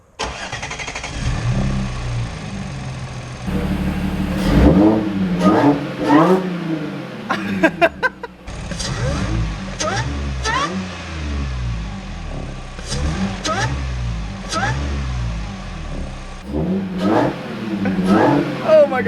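An Audi S4 with a supercharger and an upgraded intake starts up close by and revs several times, each sharp rise in engine note followed by a drop back to idle, with a person talking over it.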